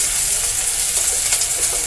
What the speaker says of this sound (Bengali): এই পেঁয়াজটা আমি ভালো করে ভেজে নেব। দেখুন পেঁয়াজটা হালকা ভাজা হয়েছে।